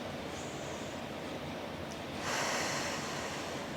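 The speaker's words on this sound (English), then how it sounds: "Give me 3 big breaths here." Deep breathing during a Pilates stretch: a slow, soft breath with an airy rush that swells near the end, close and quiet, with no talking.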